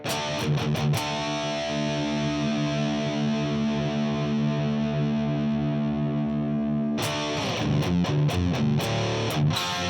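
High-gain distorted electric guitar played through a Line 6 Helix, a chugging muted riff that opens into a long sustained saturated chord, then more choppy palm-muted hits, loud and alone.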